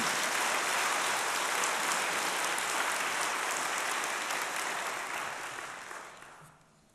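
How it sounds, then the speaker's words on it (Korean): Sustained applause from a large church congregation at a Sunday sermon, dense and steady clapping filling the space before thinning out and fading in the last second. "박수 한번 주십시오"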